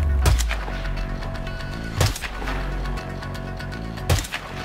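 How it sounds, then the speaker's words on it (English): Gunfire in the video game Hitman 2, with bullets striking rock: three sharp reports spaced about two seconds apart, each ringing out over a low constant game ambience. "I could have sworn I heard, like, bullets hit a rock."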